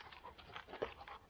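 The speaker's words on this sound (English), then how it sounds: "He's a happy dog now." A dog panting outdoors near a railway trestle, quick rhythmic breaths that are close and fairly soft, with no one talking.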